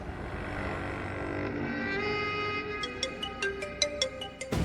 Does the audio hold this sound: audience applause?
no